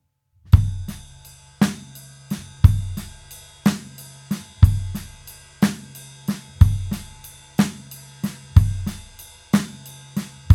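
Funk drum groove on a kit with quiet ghost notes and an accented middle snare in a triplet feel, a steady rhythmic pattern of punchy kick and snare hits, close and clear with no talking.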